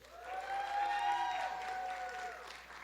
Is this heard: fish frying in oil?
no